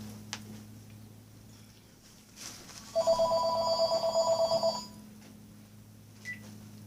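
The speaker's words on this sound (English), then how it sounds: "It's probably one of those stupid phone calls." A home telephone rings in a short burst of repeated electronic trills for about two seconds, moderately loud over a quiet room hum, with no talk.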